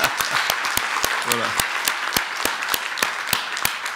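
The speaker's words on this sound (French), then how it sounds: "on les applaudit quand même." An audience applauds at an awards closing ceremony, a steady round of clapping with distinct close hand claps standing out, while a voice speaks briefly over it.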